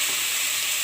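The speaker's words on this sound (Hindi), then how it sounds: "प्याज जो है वो अहाँ दऽ दियो ओहिमे आ प्याज के फ्राई कर दियो।" Onion frying in a pan with garlic gives a steady, close sizzle that holds evenly throughout the short moment, with no voices over it.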